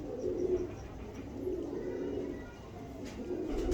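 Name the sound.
pigeon cooing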